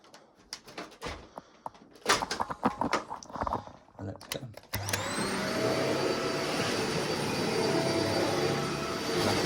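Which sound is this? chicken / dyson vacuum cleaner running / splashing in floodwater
dyson vacuum cleaner running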